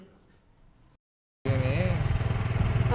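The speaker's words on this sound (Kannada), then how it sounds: "ಅವನೇ ಗಾಡಿ ಓಡಿಸ್ತಾ ಇದ್ದಾನೆ, ನಾನೇ ಓಡಿಸ್ತೀನಿ ಅಂತ ಅಂದ" A motorcycle being ridden starts up loudly after a short silence, a steady close engine drone with a pulsing rhythm and rising tones, following faint background sound.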